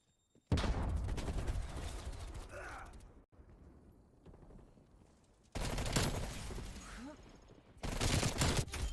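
Automatic QBZ rifle fire in Black Ops Cold War multiplayer on the Nuketown '84 map: loud sustained bursts, with a quieter gap of game ambience between them.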